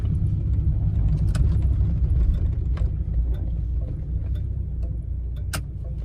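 A V10-powered Dodge Ram 2500 pickup idles with a low, steady rumble, heard close and continuous, with faint ticking and small clicks scattered over the drone.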